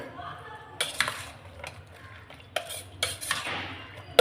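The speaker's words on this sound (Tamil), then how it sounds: "இப்போ இது எல்லாத்தையும் அப்படியே நம்ம கலந்து விட்டுடலாம்" A spoon stirs a cool summer drink with whole grapes in a bowl, making a handful of sharp clinks and scrapes against the dish at irregular intervals over a quiet background.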